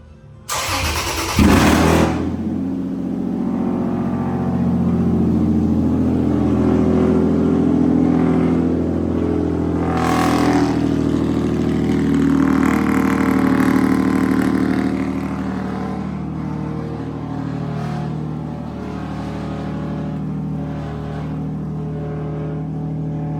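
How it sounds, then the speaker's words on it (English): Engine of a squatted Toyota Tacoma cranks and catches with a sharp burst, then settles into a loud, deep, rumbling idle with a couple of blips of revving, close by and without speech. "I'm gonna turn it on, show y'all how loud this sucker is."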